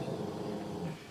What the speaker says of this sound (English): Sorry if you hear my dog, he's insane.